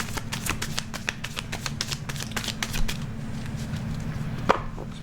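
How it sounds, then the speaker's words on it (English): A deck of tarot cards is shuffled up close in a rapid, steady stream of papery clicks and riffles over a low background hum, ending with a single sharper snap. "Sometimes when I'm shuffling, a lot of cards pull out"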